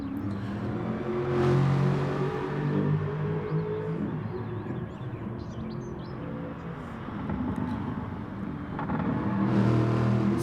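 Aston Martin Supercar engine racing around the Bathurst mountain circuit in a racing game, a loud continuous roar that swells and eases with throttle, with faint chirpy high sounds over it.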